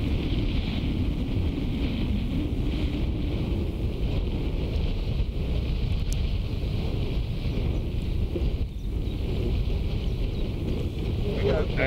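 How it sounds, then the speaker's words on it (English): Steady wind roars across an exposed stretch of a Cornish golf course, a constant low rumble and buffeting against the microphone that holds for the whole stretch with no talk over it. "Wind blowing a little bit."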